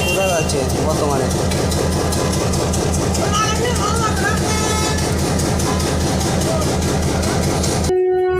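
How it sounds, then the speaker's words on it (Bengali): A train approaches a busy level crossing jammed with vehicles, its loud engine rumble and clattering wagons filling the scene, with horn-like tones and crowd noise mixed in throughout. "এই যে ট্রেন আসতেছে"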